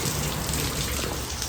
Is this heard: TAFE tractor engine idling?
no